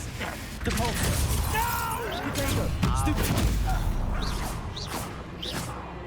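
Someone casts the Confringo fire spell in Hogwarts Legacy, producing a whooshing, crackling blast with impact-like bursts and creaks. It plays under game voices that talk throughout the clip.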